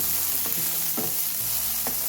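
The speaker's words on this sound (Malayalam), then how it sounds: "ഇതെല്ലാം കൂട്ടിയിട്ട് നന്നായിട്ടൊന്ന് ഇളക്കി കൊടുക്കും." Garlic and a handful of coriander leaves frying in a pan, sizzling steadily up close while a spoon stirs them with a few distinct scraping strokes.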